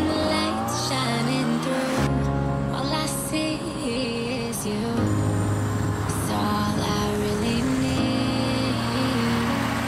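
Vintage cars departing at Steingletscher in the Swiss Alps, with loud engines revving and pulling away in overlapping roars, continuous and close.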